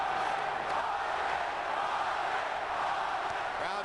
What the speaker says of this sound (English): Crowd chanting for Vargas